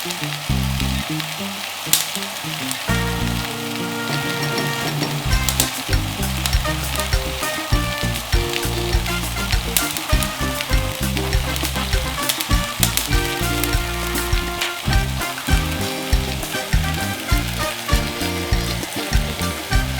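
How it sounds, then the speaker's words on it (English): Tomatillo sauce ingredients charring on a gadget, a loud continuous sizzle and crackle with dense popping and spitting throughout, close and steady with no talk. "We're gonna char all our ingredients that are here."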